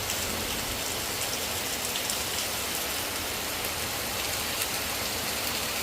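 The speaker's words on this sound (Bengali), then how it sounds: "একদম সাদা হয়ে ঝমঝমিয়ে বৃষ্টি" Heavy, steady rain pours down outdoors in a dense, continuous hiss of drops hitting surfaces, loud and unbroken throughout with no voices.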